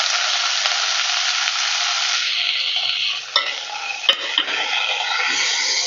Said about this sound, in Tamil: நல்லா சேர்த்துக்கிட்டு நல்லா வதக்கி விட்டுக்கணும்.